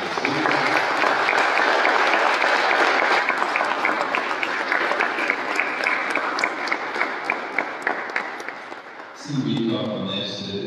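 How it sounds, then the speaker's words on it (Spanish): Congregation applause at a quinceañera Mass of thanksgiving, a steady loud wash of many hands clapping in a church that fades near the end as a voice begins speaking. "Damos un aplauso a María."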